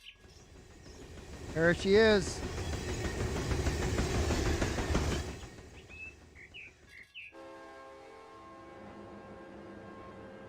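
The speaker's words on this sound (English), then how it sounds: "There's the train right there." Train rolling past in the Run 8 railroad simulator game at La Mirada yard during flat switching, with a horn-like tone and rail rumble, then bird chirps and a quieter steady hum; someone talks briefly over the start.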